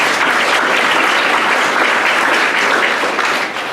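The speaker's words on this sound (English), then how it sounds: "So a round of applause for Sylvia, please." Sustained audience applause at a women-in-tech panel event, dense and steady for the whole stretch with no talking over it.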